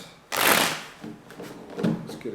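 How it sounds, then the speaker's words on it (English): A deck of tarot cards is shuffled once in a quick riffling burst, followed by softer card handling, close and fairly quiet with no talking. "Let's get 2 more shuffles."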